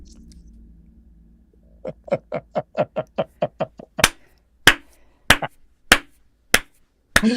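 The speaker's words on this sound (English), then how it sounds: "Don't you dare slow clap." A slow clap by one person, about a dozen evenly spaced claps that begin soft and quick, then grow louder and sharper as the spacing widens, in an otherwise quiet room.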